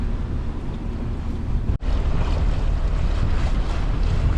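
Loud, steady roar of wind and rushing water as a flat, very fast inflatable boat speeds across the surface, with a brief dropout partway through.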